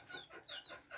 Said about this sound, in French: les poules sont tranquilles, nous donnent des œufs fertiles